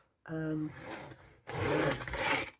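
Small paper trimmer slicing through paper, two short scraping strokes, the first a brief rasp with a faint tonal squeak, the second a longer, brighter sliding cut, close and fairly quiet.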